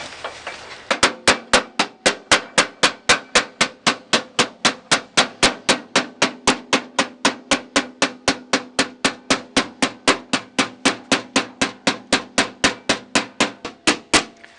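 A hammer strikes a 1967 Mustang door skin over and over, a long fast regular run of loud close metallic taps with a faint ringing between blows.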